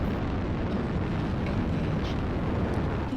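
Artillery strike explosions in the MechWarrior Online game, a dense continuous roar of rumbling booms with no clear gaps, loud and sustained under battle noise.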